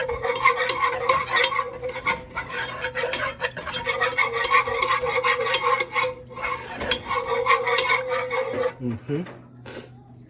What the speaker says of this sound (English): I'm going to start stirring it again, because I want a smooth cheese sauce.